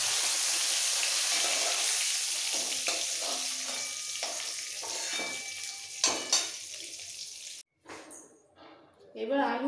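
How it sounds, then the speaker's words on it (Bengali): Potatoes and pointed gourd fry in oil with a loud, close sizzle broken by stirring scrapes and utensil knocks. The sizzle fades and cuts off near the end, leaving sparse clatter. "আলু পটল খুব ভালো করে ভাজা হয়ে গেছে, পটল ভাজার সুন্দর গন্ধ বেরিয়ে গেছে"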